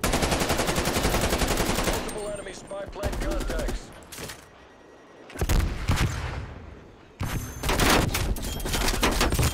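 Dense bursts of automatic gunfire and rapid shots from the Call of Duty: Black Ops Cold War shooter game, loud and close, cutting in and out in several volleys with brief quiet gaps and some voice chat mixed in.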